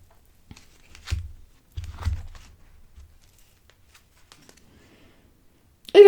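Tarot cards are shuffled and cut by hand, giving a few soft, brief riffling and slapping bursts with quiet gaps between them, close and fairly faint, followed by a voice at the very end.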